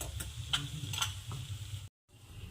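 Spinach being cooked in a pan gives a steady, soft sizzle with occasional light stirring ticks, running continuously until a brief silent gap near the end before resuming.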